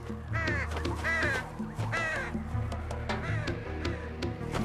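Vultures call in the Hindi-dubbed 2019 film The Lion King, a string of harsh, rasping caws repeated over a dense, loud soundtrack background.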